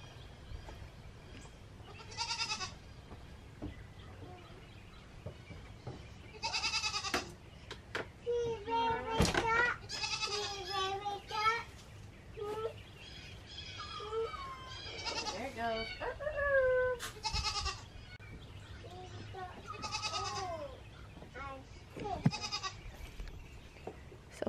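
Goats bleat repeatedly, loud and close, with wavering cries rising over one another, while people talk intermittently in the background.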